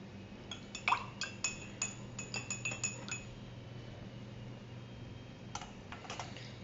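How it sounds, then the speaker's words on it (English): A spoon stirring milk drops into water in a glass, making a quick series of bright clinks against the glass, clustered for a few seconds, then a short pause before a few more taps. "now we will stir it well"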